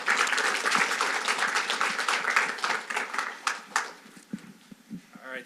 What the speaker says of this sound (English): I just wanted to acknowledge all of our volunteers, Mark and Joe, with another round of applause